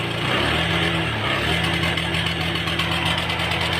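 A Honda Beat or Vario 110 scooter engine idles steadily, a loud close mechanical drone with a slight rhythmic pulse and vibration, unchanging for a few seconds with no talk.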